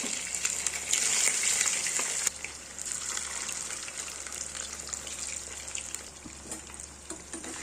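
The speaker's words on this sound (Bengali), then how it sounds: "এবার একে একে চিকেনগুলো ছেড়ে দেবো, হালকা হালকা ফ্রাই করে নেব।" Chicken pieces frying in white oil in a wok, a steady bright sizzle that swells as pieces go in, with occasional stirring and clatter, close and moderately quiet.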